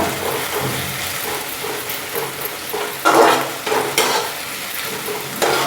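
Chopped onions sizzle in hot oil in a pan for chicken curry while a spoon stirs them, with a steady close-up fry and a few louder scraping bursts near the end.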